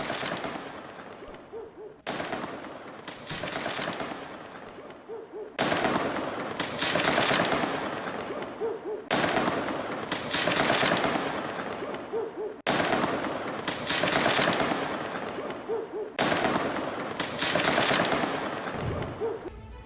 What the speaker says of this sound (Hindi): वेस्ट बैंक के जेनिन में जबरदस्त फायरिंग।